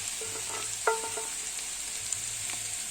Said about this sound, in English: And we keep stirring here